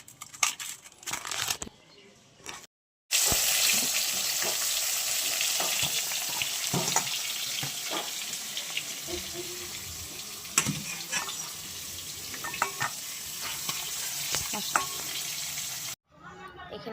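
A curry of rohu fish with spinach, onion, tomato and corn sizzles loudly in a pan, a steady frying hiss with scattered stirring clatters, opening with a few short bursts and breaks before the continuous sizzle.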